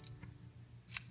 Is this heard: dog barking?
no